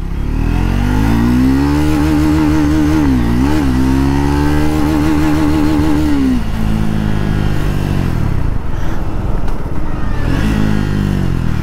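A Triumph Scrambler 400X motorcycle accelerates hard from a standstill on a 0 to 60 run, its engine revving up loud and close through rising gear pulls, dropping at each shift, then settling into a steady roar with road and wind noise.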